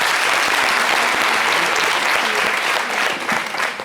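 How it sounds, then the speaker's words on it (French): Sustained applause from a studio audience at a televised season-finale show, dense and steady throughout, with a faint voice in the background. "Merci d'applaudir."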